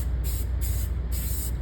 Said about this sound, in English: Now I'm just going to spray up here until I'm out of paint